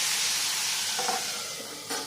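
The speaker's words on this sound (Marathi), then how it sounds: "ते आता तेलामध्ये मस्त फ्राय करून घेऊया" Chopped capsicum frying in hot oil, a steady bright sizzling hiss up close with a few faint stirring scrapes partway through, no talking.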